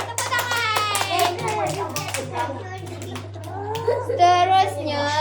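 A group of young children in a classroom lesson claps their hands in a quick burst of scattered claps, mixed with their high-pitched chatter and voices that carry over the clapping.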